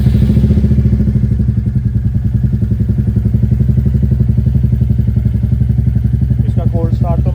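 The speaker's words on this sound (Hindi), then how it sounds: "इसका कोल्ड स्टार्ट तो मैंने कर दिया था, और अभी RPM बढ़ी हुई है" A Royal Enfield Meteor 350 single-cylinder engine idles with a raised rpm after a cold start, fitted with a Stage 2 air filter cap. It gives a loud, steady, close thumping beat that continues without a break throughout.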